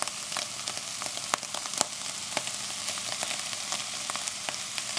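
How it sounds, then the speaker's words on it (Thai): Ham stir-fried with vegetables in a pan for Thai ham fried rice, a continuous crackling sizzle with scattered sharp pops and spatula scrapes, close and even, no voices. "เอาแฮมลงไปผัดด้วยกัน"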